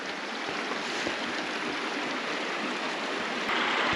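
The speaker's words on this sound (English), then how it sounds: "We're stopping at this creek right here." A mountain creek in Idaho's Sawtooth Mountains flows steadily, a close, continuous broadband rush of water with no voices, holding an even level throughout.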